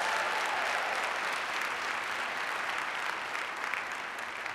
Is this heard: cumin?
no